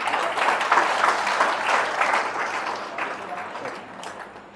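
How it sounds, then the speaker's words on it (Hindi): Audience applause at a lively stage event in Satna, India: a dense, steady wash of many hands clapping close by, holding strong for several seconds before easing slightly toward the end. "जोरदार ताली बजाइए इनके लिए।"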